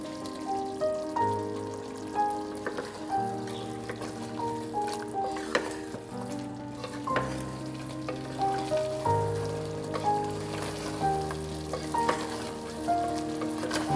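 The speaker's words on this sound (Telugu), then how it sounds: "సో ఆ మసాలా ఇందులో వేసేసి కొద్దిగా ఇలా లో ఫ్లేమ్లోనే ఫ్రై చేయాలి" Ground masala fries in oil over a low flame in a pressure cooker while chicken gravy is made at home, giving a soft, steady sizzle under louder tonal background music.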